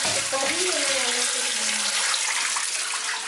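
Tap water runs steadily into a sink while food is rinsed for a home dinner, a loud continuous splashing rush close by with no talk.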